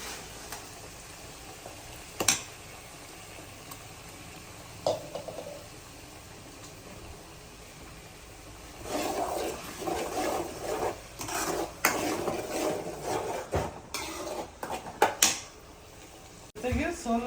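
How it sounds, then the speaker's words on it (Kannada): A ground paste of onion, coriander and green chilli goes into a hot pan, giving intermittent sizzling and stirring scrapes that grow louder and busier in the second half, with a few sharp clinks along the way. "ರುಬ್ಬಿಟ್ಕೊಂಡಿರೋ ಈರುಳ್ಳಿ, ಕೊತ್ತಂಬರಿ, ಹಸಿಮೆಣಸಿನ್ಕಾಯಿ ಎಲ್ಲ ಹಾಕೊತಾ ಇದ್ದೀವಿ"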